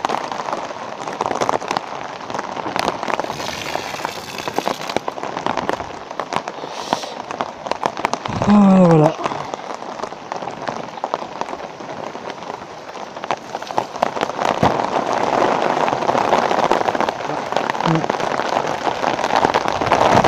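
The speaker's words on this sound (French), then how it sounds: "Et puis ça pleut comme il faut là." Heavy rain falls on a camouflaged bivouac camp in the woods, a steady broadband patter that swells louder toward the end, with faint scattered sounds over it.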